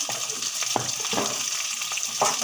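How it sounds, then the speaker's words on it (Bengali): Potatoes frying in oil with cumin and bay leaf, a close, constant sizzle broken by a few short stirring scrapes and clicks. "আলুগুলো আলুগুলো ভেজে নিই আর এখানে আমি জিরে আর আদুনটা দিয়ে দিলাম তেজপাতাটা দিয়ে দিলাম"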